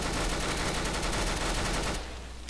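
Sustained automatic gunfire in Counter-Strike: Global Offensive, a dense rapid burst lasting about two seconds, loud and close, then cutting off abruptly into quieter ambience.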